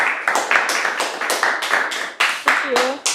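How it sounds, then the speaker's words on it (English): Conference audience applauding with steady claps that come in bursts, loud and close, with a voice briefly speaking partway through the clapping. "Guys, another round of applause."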